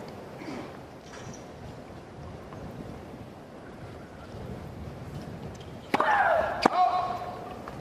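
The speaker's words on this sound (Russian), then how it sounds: "Пусть этот ветер пройдет." Steady rushing wind buffeting the microphone outdoors at a professional tennis match in Miami, with a couple of sharp knocks and a brief bright clatter near the end.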